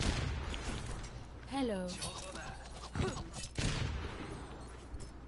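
Rapid gunfire bursts crackle through a competitive shooter match, sharp volleys scattered across a few seconds with a player speaking briefly over them.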